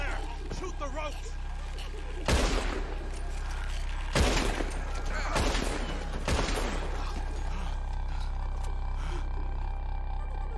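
Gunfire in Red Dead Redemption 2 during a shootout on the island of Guarma: four loud, sharp shots spaced a couple of seconds apart, over a continuous rumbling game background.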